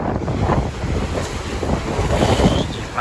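Waves splashing and surging against a ship in extreme weather at Merak harbour, a loud constant wash of water mixed with heavy wind buffeting the microphone.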